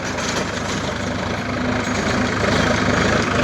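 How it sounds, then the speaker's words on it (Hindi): A Sonalika tractor engine runs at low RPM while tilling hard soil with a rotavator, a steady close diesel chug with a dense low rumble that swells slightly toward the end, no talking over it. "इतना कम RPM में कोई सा ट्रैक्टर चलेगा नहीं"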